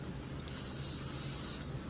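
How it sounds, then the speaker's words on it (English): A short burst of aerosol spray from a poorly working spray can hisses for about a second, then cuts off, heard over a faint low background hum. "Oops, this one's not spraying very well."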